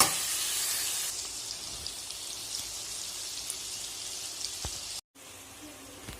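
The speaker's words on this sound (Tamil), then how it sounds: "அந்த எண்ணெயில் நல்லா அந்த சிக்கன் வந்து சுருண்டுறணும்" Chicken pieces frying in hot oil for a pepper chicken curry, a steady close crackle and sizzle with bright spattering pops, continuous and alone, cutting out briefly near the end before resuming.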